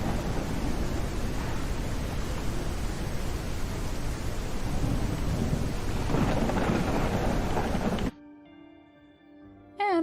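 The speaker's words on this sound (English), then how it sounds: "And we're back to the thunderstorm stuff." Thunderstorm in the dinosaur survival game The Isle, with heavy rain hissing loudly and continuously under rumbling thunder, then a sudden drop to near-silence with faint tonal game sounds near the end.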